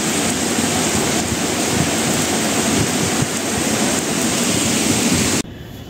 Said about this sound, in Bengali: প্রচণ্ড জোরে বৃষ্টি নেমে গেছে